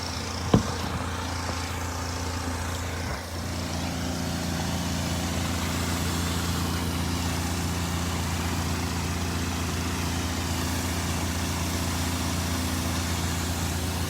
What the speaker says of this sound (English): You guys should hear the engine.